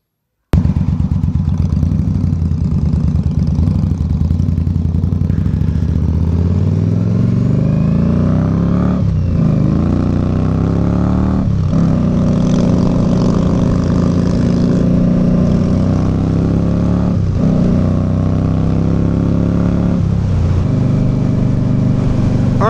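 An Indian Scout Bobber motorcycle with a freshly flashed ECU (Dynojet Power Vision CX, Fuel Moto tune) is ridden out on the road. Its loud, close engine climbs repeatedly in pitch through several gear shifts over steady wind rush.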